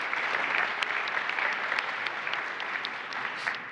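An audience at a vocational excellence forum applauds, a steady patter of many hands clapping at moderate distance, fairly soft and tapering slightly toward the end.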